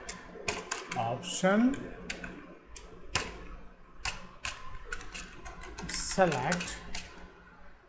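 Computer keyboard keys clatter in quick irregular bursts while code is typed, close and clear, mixed with someone speaking intermittently over the typing.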